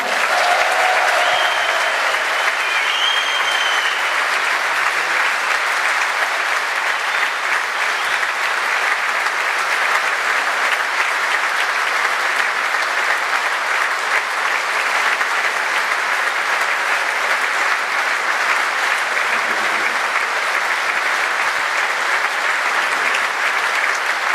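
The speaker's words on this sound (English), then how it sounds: "Huge ovation for Mr. Walter Smith." A large dinner audience at Caird Hall in Dundee gives a long, sustained ovation of loud, dense applause with some crowd noise, steady from start to finish.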